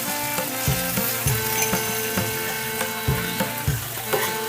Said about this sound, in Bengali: জিরে বাটাটা দিয়ে আমি একটুকু নাড়াচাড়া করে নিচ্ছি এরপর আমি আদা বাটাটা দিয়ে দিচ্ছি